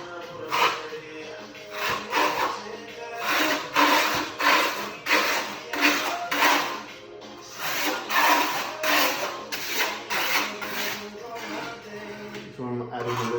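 Coarse marmorino Venetian plaster is worked onto a prepped pedestal with a trowel, producing steady rhythmic scraping strokes about once a second, close and moderately loud, with no talk.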